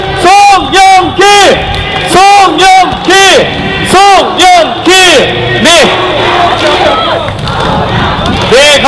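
A large crowd at a Seoul mayoral election rally loudly chants the name of candidate Song Young-gil in a steady rhythmic cadence of repeated bursts, then breaks into looser shouting and cheering toward the end.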